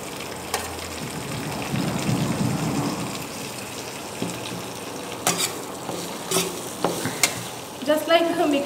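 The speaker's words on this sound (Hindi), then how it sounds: "अच्छे से मिक्स करना है, सब चीज़ें ना पूरी मिक्स हो जाए और ये सारे पत्रों के ऊपर अच्छे से ऑयल लग जाए।" Leaves tossed in oil in a pan while being prepared for a patrapottali herbal bundle, a moderate sizzle with repeated scraping stirs and clinks, louder toward the end.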